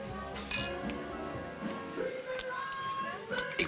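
Glasses clink together in a toast, several bright, ringing chimes standing out over steady nearby conversation.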